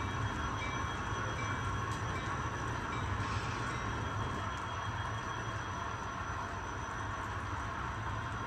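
HO scale model Metrolink commuter train running on a BNSF layout, a steady low rumble and rolling rail hum that holds at an even level throughout, with no talk.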